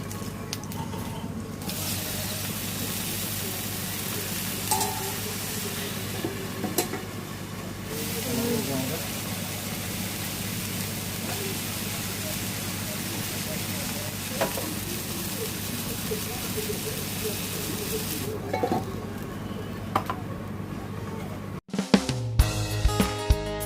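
Leafy greens fry in a pan with a steady, moderate sizzle and hiss lasting over twenty seconds, with occasional stirring knocks, before the sound cuts off abruptly into brief clattering.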